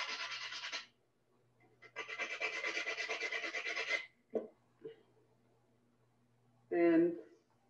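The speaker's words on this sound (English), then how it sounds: "you can sand it down" Sandpaper, 60 grit, rubbing down the rough edge of a tile: two long, steady rasping passes, close and fairly loud, then brief scrapes and a short burst of another sound at the end.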